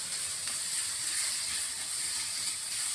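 Minced meat, about half a kilo, goes into a pan of onions for a baked minced-meat pasta, giving a loud, steady sizzling hiss that carries on without a break.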